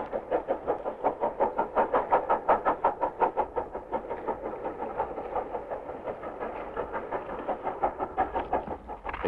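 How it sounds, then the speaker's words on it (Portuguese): A train runs along the Douro railway in Portugal, its wheels beating a steady, fast clickety-clack rhythm over the rail joints with a continuous rumble, close and loud throughout. "E de novo buliçoso irrompe o comboio num arremedo de visita da infância."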